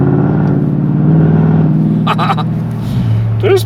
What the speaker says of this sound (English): The only reason it's a bit loud right now is because we have the sunroof just tiny open on the side.